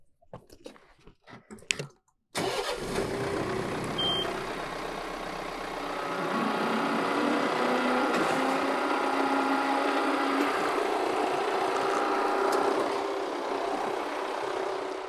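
A tractor engine drones steadily at moderate distance as it pulls a PTO manure spreader off its shipping skid, following a few sharp knocks at the start, with the engine note rising slightly partway through.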